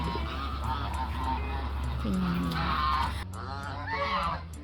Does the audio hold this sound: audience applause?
no